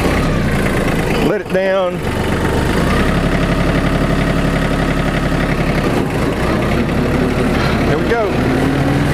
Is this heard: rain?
no